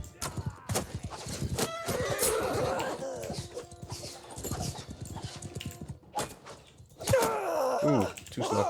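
Horses in a Mount and Blade video game battle whinny and hooves clatter in a busy, noisy mix of thuds and cries, with a loud neigh near the end.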